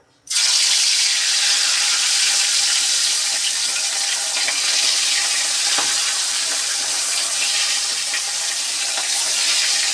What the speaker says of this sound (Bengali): তেল গরম হয়ে গেল, এখন মাছগুলো এক একে ভেজে নেব।